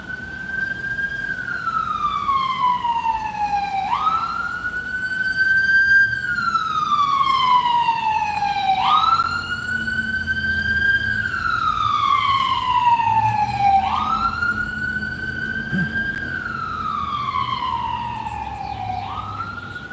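An ambulance siren wails in long rising and falling sweeps, repeating about every five seconds, loud and close as it passes, with faint traffic rumble underneath.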